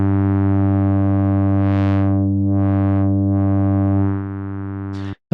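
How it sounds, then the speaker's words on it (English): A sustained, buzzy chord from the Mai Tai software synthesizer in Studio One, its filter pushed into drive overdrive for a thick, saturated tone. The filter sweeps open and closed in slow waves, then the sound cuts off abruptly near the end. "it allows you to basically overdrive the filter. This will add saturation and kind of fullness to the sound."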